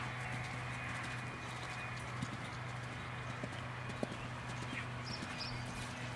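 A horse canters during a riding lesson, its hoofbeats faint and rhythmic beneath a constant low hum and hiss, with a couple of sharper thuds standing out.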